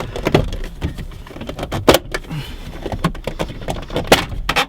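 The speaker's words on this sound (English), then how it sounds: "Then this center part, pull straight up." Plastic clips snap and rattle as the center console panel of a Toyota Tacoma is pulled straight up, a close run of sharp, irregular clicks and knocks.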